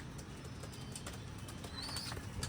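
Pigeons in a pigeon house give brief, soft flurries of wing flapping over a low background hum, with faint chirps, all somewhat distant and quiet.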